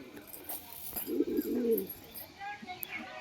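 A pigeon coos in a short low burst, fairly close, with faint background noise and no other clear sounds.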